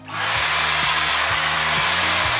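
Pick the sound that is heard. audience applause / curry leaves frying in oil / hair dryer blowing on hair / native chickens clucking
hair dryer blowing on hair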